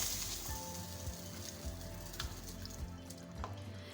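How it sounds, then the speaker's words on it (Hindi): Water in a cooking pot comes to a boil as soaked rice for Sindhi biryani goes in, making a soft, steady bubbling hiss with small pops and light clinks, faint and close. "पानी में उबाल आना शुरू हो गया है, आप देख सकते हैं"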